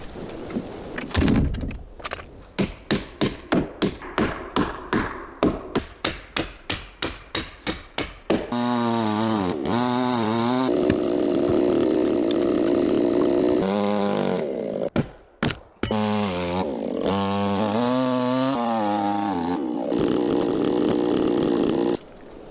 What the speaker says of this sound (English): The middle section of the wooden wall is being carefully cut with a chainsaw